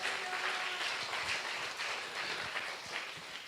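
A church congregation gives a round of applause, a brief, fairly faint wash of clapping from a crowd in a room, steady and unbroken through its few seconds.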